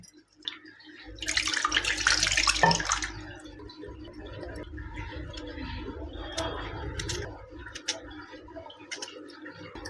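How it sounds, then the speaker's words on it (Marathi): Running water splashes loudly for a moment as coriander is rinsed under it, then continues more softly with small clinks. "आता एक कोथिंबीर धुवून ठेवते"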